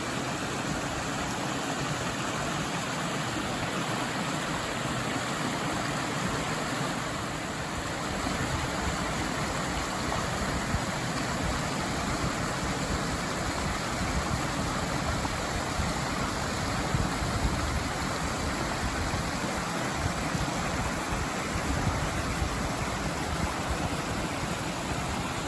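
A waterfall at Sheepskin Hollow Preserve in Connecticut roars in a dense, unbroken rush of falling water, heard from close by at the top of the falls with no voices.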